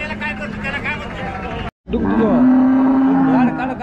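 A cow lets out one long, low moo close by at a cattle market, while people talk in the background.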